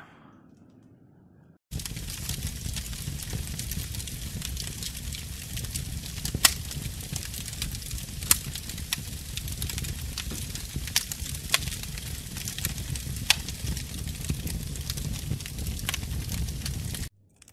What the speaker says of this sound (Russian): Ночной костер с шашлыком и кофейком отдыхаю